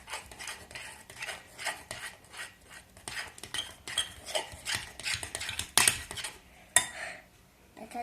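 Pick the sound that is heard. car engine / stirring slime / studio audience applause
stirring slime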